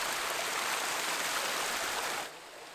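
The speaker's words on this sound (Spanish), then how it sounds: "Y el resultado es una hermosísima cascada." A waterfall at a water park, formed where a tree fell, pours as a steady broadband rush of falling water that stays loud and even, then drops slightly in level near the end, with no talk.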